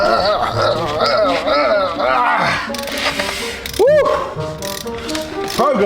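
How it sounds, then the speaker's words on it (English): A ratchet wrench loosening the wheel nuts on a car during a vehicle conversion, loud rapid clicking from the pawl with metallic clanks, mixed under excited talking nearby. "I'm going to loosen the rest of the nuts off."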